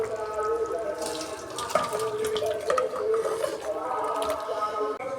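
Bhetki fish curry cooked with vegetables being poured, giving a continuous wet liquid splashing and trickling sound at moderate level with no voices.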